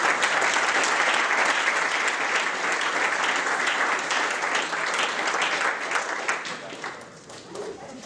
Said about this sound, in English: can we give another round of applause for our speakers?